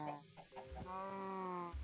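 A chicken in the video game Minecraft gives a few quiet, short clucks, faint and close, with no voices over it.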